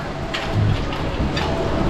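Steady rush of rain with gusting wind, a dense broadband wash that stays constant and fairly loud throughout, no voices heard.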